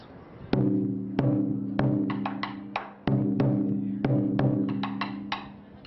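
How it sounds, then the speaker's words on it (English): A medium-sized chu daiko taiko drum is struck repeatedly, with deep booming hits in an uneven rhythm, some single and some in quick pairs, each ringing and decaying. "Here we have one of our taiko. This is a medium-sized drum,"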